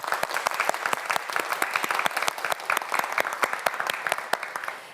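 Audience members at a televised science quiz show clap together in a sustained, lively round of applause, crisp individual claps packed densely and holding steady from start to finish.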